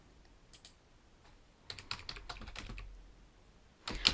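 Computer keyboard typing, quiet and close: scattered single key taps, then a quick burst of clicks and a couple of louder presses at the end.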